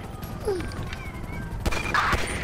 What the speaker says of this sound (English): Units reporting shots fired at an officer in, uh, southern Henrietta Heights.